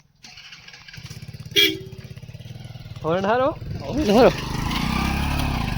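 A motorcycle engine starts and settles into a steady low idle, rising in a short rev partway through, while people talk and call out over it close by.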